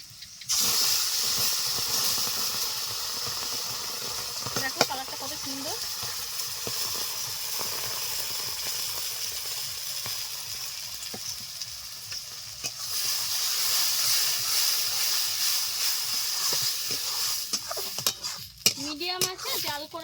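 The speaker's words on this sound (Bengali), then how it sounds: "পেঁয়াজগুলো ভেজে নিয়েছি একটা সুন্দর ফ্লেভার বের হচ্ছে এখন এই পটল দিয়ে দিচ্ছি" Pointed gourd tossed into a pan with fried onions, a continuous close sizzle and hiss with scraping stirs and occasional clinks of a utensil against the pan.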